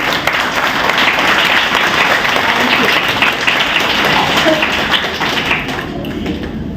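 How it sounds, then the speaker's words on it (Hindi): An audience claps together at a speech event for Project Nirvana, a dense, steady wash of applause lasting the whole stretch and easing off only slightly near the end. "आप ताली बजाइए जो लोग खड़े हैं"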